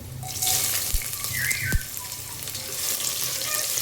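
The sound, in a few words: chopped ivy gourd frying and being stirred in pan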